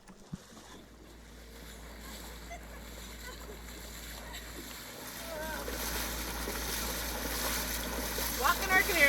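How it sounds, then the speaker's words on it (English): A canoe walked through shallow water by a women's team on a portage expedition, with ongoing splashing and water movement growing louder and busier toward the end, wind and voices faintly present. "Walking our canoe."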